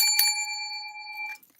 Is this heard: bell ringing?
yes